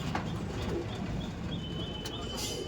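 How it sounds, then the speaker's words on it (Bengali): Andhra Fulshira pigeons coo softly amid the steady hum and bustle of a pigeon sale, their low calls partly buried under constant background noise. "দেখো আরও এক পেয়ার ফুলসিরা পায়রা"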